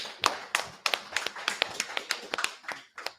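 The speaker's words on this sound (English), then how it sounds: "Clap it up." Hands clap in a series of sharp, fairly even individual claps close by, a dozen or so in quick succession with slight irregular spacing and no accompanying talk.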